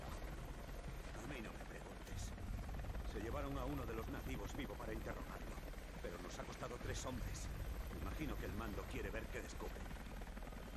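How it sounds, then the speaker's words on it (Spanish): In Rise of the Tomb Raider, a helicopter's steady rotor drone and mechanical rumble run low beneath in-game dialogue between soldiers, fairly faint and continuous throughout. "Ese era el helicóptero."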